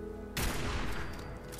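A burst of gunfire erupts in Fallout 4's Far Harbor, a loud sudden volley of close shots whose noisy roar holds and slowly fades over about a second.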